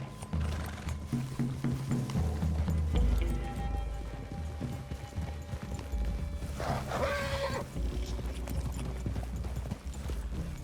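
Horses in the Red Dead Redemption 2 video game clop their hooves steadily on the ground, and one lets out a loud whinny midway through. Faint ambient game sounds sit underneath.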